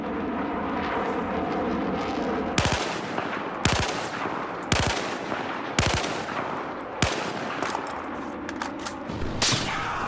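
Rapid bursts of AEK rifle fire in Battlefield 4, several sharp volleys spaced through the clip over a steady background rumble of in-game ambience, loud and close.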